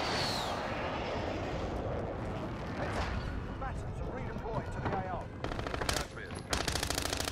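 Rapid bursts of automatic gunfire from a QBZ rifle in the Call of Duty Warzone video game, Cold War era weapons, loud and continuous with a player talking over the shooting.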